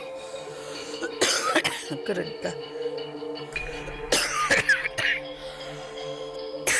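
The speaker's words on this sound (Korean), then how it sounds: "인터뷰가 여러 번 중단될 정도로 기침이 심합니다." A person with a severe lung illness coughs repeatedly, with several harsh, close bursts breaking up quiet talk during an interview indoors.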